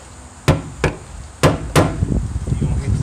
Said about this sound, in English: you're just gonna take your screwdriver and your hammer,